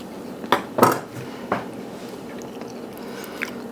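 Cutlery scrapes and clinks against a plate as a stuffed smoked pork chop is cut in half, with a few sharp knife-and-fork strikes followed by quieter scraping.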